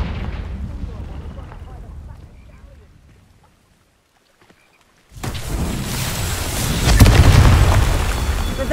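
A Confringo fire spell explodes in Hogwarts Legacy. After a quieter stretch and a short near-silence, a loud burst erupts into a sustained, crackling roar of flame and debris. A voice is heard early on.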